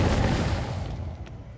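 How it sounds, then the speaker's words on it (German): A generator in Dead by Daylight goes off with a single loud bang that rumbles and fades over about a second and a half, with no talking. "Da hinten knallt es am Generator."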